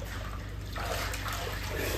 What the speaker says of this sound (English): I'm really happy that all the water is leaving and going onto the balcony.